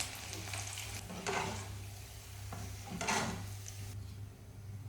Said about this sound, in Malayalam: ഇനി നമ്മൾ സെയിം എണ്ണയിൽ ഇതെല്ലാം നമ്മൾ നേരത്തെ എടുത്ത് വെച്ചിട്ടുള്ള വെളുത്തുള്ളി ഒന്ന് വറുത്ത് കോരാം